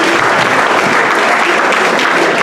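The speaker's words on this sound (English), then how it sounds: "Can we give them a round of applause?" Sustained, dense applause from an audience at a Hispanic Heritage Month celebration program fills the whole stretch, steady and loud with no break.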